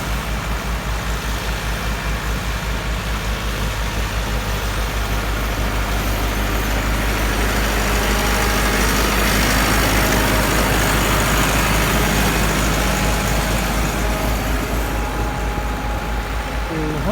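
A Massey Ferguson 385 tractor engine labouring steadily while ploughing a field for potato sowing, a continuous loud diesel drone with low rumble throughout, close by.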